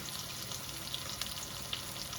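Squash with salt, pepper and garlic cooks in a pot on the stove, giving a continuous close sizzle and bubbling with scattered sharper pops, no one talking.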